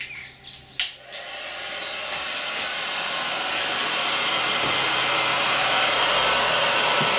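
Heat gun blowing hot air in a woodturning workshop, a steady loud rushing roar that starts after a couple of brief clicks and builds, running alone to the end.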